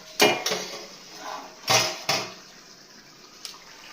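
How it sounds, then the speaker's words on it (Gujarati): Potatoes are tipped into a cooking pan while making sabudana khichdi, giving a few sharp metallic clatters and scrapes against the pan, close and loud, separated by short quiet gaps. "આ બટેકા નાખી દઈશું"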